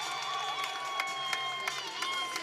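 Crowd cheering and applause at a college gymnastics meet in an arena, with EMU, LIU and Temple competing at Towson. The sound is a steady, fairly distant roar with scattered claps and whistles, and an announcer's voice runs over it.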